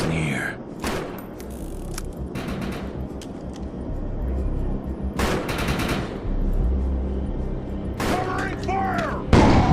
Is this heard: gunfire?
yes